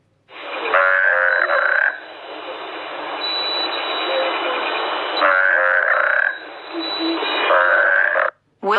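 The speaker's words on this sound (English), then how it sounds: "Toad." A toad gives long, rasping croaks in sustained loud trills, broken by short pauses, with a steady buzzing chorus between calls.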